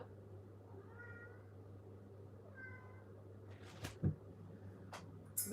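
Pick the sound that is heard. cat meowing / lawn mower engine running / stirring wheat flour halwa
cat meowing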